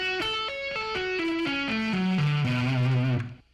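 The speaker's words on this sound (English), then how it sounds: "So at a slow tempo, the arpeggio sounds like this." A distorted electric guitar plays a minor 9 sus4 arpeggio at a slow tempo, about a dozen picked notes stepping downward one by one before ringing out and fading, no voice over it.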